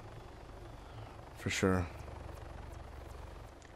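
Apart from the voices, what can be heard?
helicopter in video game Arma 3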